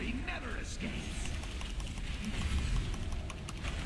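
Horse hooves clip-clop in World of Warcraft, a steady rhythm of hoofbeats under game music and effects, with a voice talking over them.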